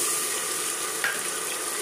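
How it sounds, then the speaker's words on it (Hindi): Onions with ginger-garlic paste and cumin sizzle steadily in hot oil, a close, even frying hiss with one faint scrape of stirring midway; no talking. "अनियन हमारे बहुत अच्छे से फ्राई हो चुके हैं"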